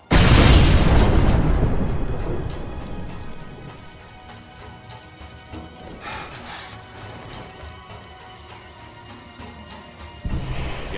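A loud close explosion in the zombie survival game State of Decay opens with a heavy boom and rumble that slowly decays into debris and ambient noise, followed by a smaller burst near the end.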